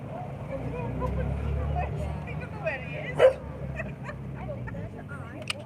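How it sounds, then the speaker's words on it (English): A dog yips and barks a few times amid outdoor background noise and people talking, with a low rumble throughout. "Is he barking at them for, pet?"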